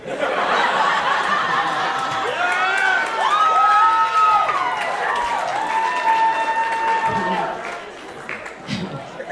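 A comedy club crowd at a stand-up show breaks into applause mixed with laughter and cheering, loud and sustained, while a voice rises and falls through it before the noise tapers off near the end.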